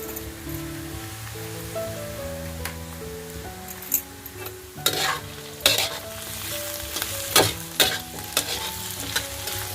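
Okra hits well-sautéed onions on a tawa over a medium gas flame, sizzling steadily close up while a spatula makes sharp, intermittent scraping stir strokes; no one talks.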